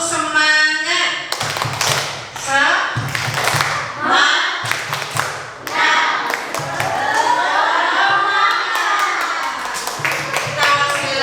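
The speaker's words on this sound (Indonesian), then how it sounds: "Tepuk semangat." A group performs a tepuk semangat spirit clap at a teachers' positive-culture dissemination session: bursts of sharp rhythmic hand claps in quick patterns, alternating with chanting voices, loud and close throughout.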